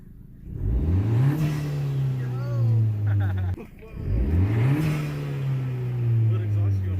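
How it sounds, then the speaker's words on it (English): A 2020 Honda Civic Si with a PRL air intake revs twice, each time climbing from idle to a loud, sustained engine drone with airy intake whoosh, dropping briefly between the two pulls. "let's hear that intake and"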